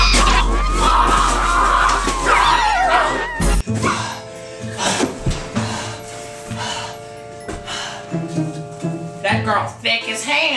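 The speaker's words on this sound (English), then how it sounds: "And the dog barking too. That's pretty cool. Sound effect?" A dog yips and barks in short bursts inside a low-budget haunted-mansion setting, with music and sound-effect noise around it and people talking over the barks.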